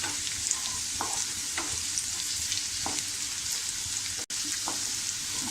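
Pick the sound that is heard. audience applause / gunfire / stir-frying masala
stir-frying masala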